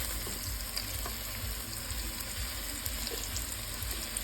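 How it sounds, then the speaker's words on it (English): Meatballs (albóndigas) fry steadily in a pan with a continuous close, even sizzle and crackle throughout, no talking. "fry them, so I'll turn them here in a little bit, just so I have to get some little bit of brown spots"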